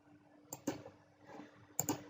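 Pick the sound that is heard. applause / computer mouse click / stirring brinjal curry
computer mouse click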